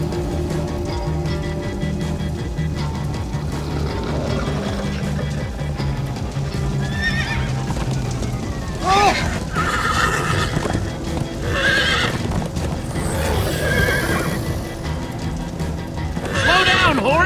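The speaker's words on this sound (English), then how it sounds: "Slow down, horse!" Horses whinny repeatedly over a steady clip-clop of hooves in the video game Minecraft: Story Mode, with music and game-style effects layered underneath.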